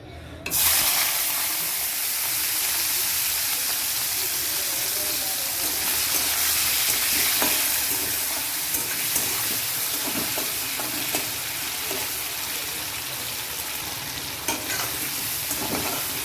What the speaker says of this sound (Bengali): এখানে তেলটা গরম হয়ে গেছে, এখন চিংড়ি মাছটা আমি দিয়ে দিচ্ছি।